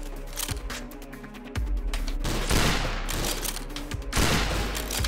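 Rapid, loud gunfire from a video game pistol and other weapons, with sharp repeated shots and bursts running through the whole stretch, busy and close.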